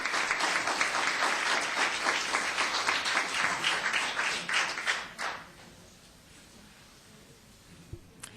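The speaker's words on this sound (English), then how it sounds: "I know you clapped because it was fairly short." Audience at a town council meeting claps steadily for about five seconds, a loud sustained wash of hands that tapers off abruptly into quiet room tone.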